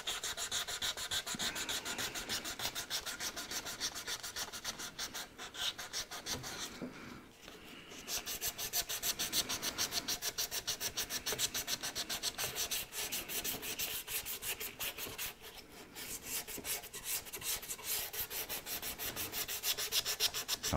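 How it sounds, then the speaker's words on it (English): Sandpaper rubs steadily across an antique wooden dressing table during restoration, a close, continuous rasping scratch with rhythmic strokes and a couple of brief pauses. "I might have to come back and do a little bit more sanding."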